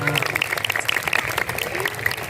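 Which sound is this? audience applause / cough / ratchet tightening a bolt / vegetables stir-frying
audience applause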